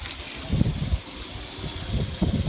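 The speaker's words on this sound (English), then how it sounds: "So we're going to turn the water back on and see how it is." A steady gush of water from a hose or tap rinsing oven cleaner off a boat hull, continuous hiss with a few splashy bursts, close and alone.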